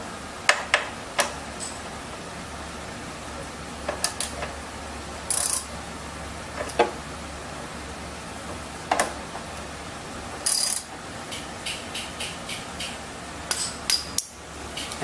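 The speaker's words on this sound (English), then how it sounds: "take our 7/16 with a 3/8 drive and gently tighten the bolts" A 3/8-inch drive ratchet with a 7/16 socket snugs bolts on a pump, making scattered sharp metallic clicks and ticks in short runs over a low steady hum, close by with no talking.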